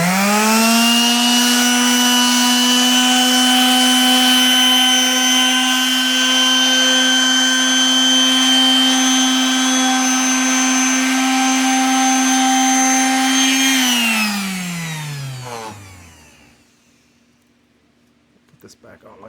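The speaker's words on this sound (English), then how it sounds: "Try to do a little bit of sanding with the camera." A power sander whines at a steady high pitch for a long stretch on fiberglass of a C3 Corvette's front fender, then spins down and stops, leaving quiet at the end.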